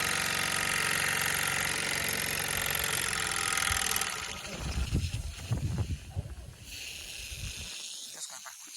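A Mamod toy steam wagon runs at full power, its chimney blowing hard: a steady, loud hissing chuff for about four seconds, then an uneven, sputtering rumble that fades away near the end.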